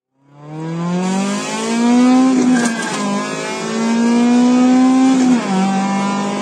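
A Honda Del Sol with the 1.6-litre VTEC double-overhead-cam inline four revs hard, the engine note climbing, dipping at a shift, then rising again in a loud, close, sustained howl.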